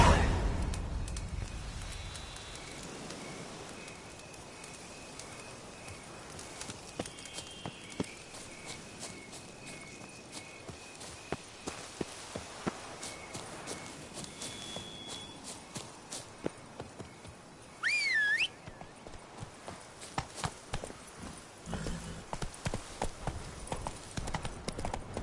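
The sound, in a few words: horse Roach galloping hooves, from a video game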